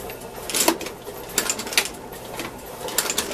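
An Alden shell sewing machine runs with its thread pulled out, giving a quick, uneven series of mechanical ticks and clatters over about three seconds, close and moderately loud with no voices.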